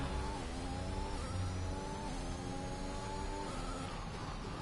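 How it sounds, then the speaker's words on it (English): A McLaren Formula 1 car's engine in the racing game F1 2021, a loud continuous high-pitched whine on a racetrack, pitch climbing and shifting through gear changes, up close with no voices. "Just chilling in my McLaren, running around the racetrack like it's nothing, no one's business"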